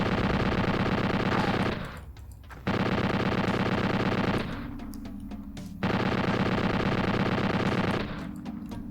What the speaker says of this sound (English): we're going to use the rifle's alt fire, which is a scope, to take out the entire army of Doctor Faces